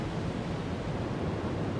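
Big waves at sea in the submarine game UBOAT, with a Type VIIB U-boat on the surface in 1941: a steady, dense roar of surf and wind, loud and unbroken, with no voices.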